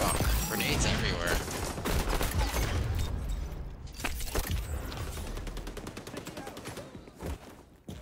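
Dense gunfire rattles almost continuously in an online shooter match where an ACR rifle is in use, with grenade blasts mixed in and rapid automatic bursts toward the end, loud and close throughout.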